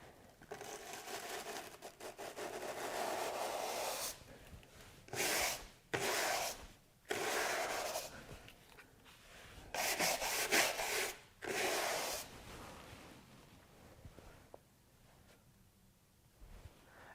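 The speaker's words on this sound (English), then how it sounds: "I'm going to try the stiff bristle brush in this little area." Stiff-bristle brush scrubbing across a painted plastic chair made to look like wood, a close, dry rubbing scratch in several separate bursts with short pauses between strokes, fading to near silence at the end.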